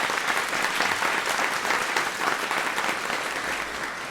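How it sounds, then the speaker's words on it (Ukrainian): A large audience applauds at an event introducing the UNICEF goodwill mine-detection dog, dense continuous clapping at full strength that tapers slightly toward the end. "Ваші оплески"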